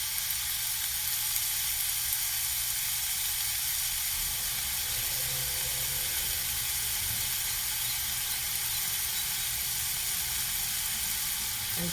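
Cabbage sizzling in a pan for rice- and millet-based vegetable noodles, a steady, close frying hiss that continues evenly throughout.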